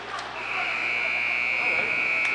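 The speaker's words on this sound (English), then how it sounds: "Colin Anna, as the buzzer sounds, and the River Rats with a 1-0 lead" A hockey arena horn blares at the end of a period in a U15 game between SASKS 15 National and the Neponset Valley River Rats. The steady, loud tone starts about half a second in and holds to the end over crowd noise.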